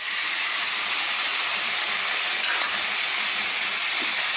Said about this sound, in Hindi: अब गैस मीडियम पे करके इसमें टमाटर की प्यूरी भी डाल देंगे।